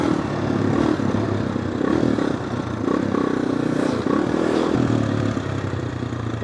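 An AJP PR7 motorcycle ridden at a steady pace, its single engine droning loud and continuous with slight rises in revs and wind rumble, no pauses.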